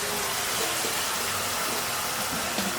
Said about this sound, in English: I think we need more water.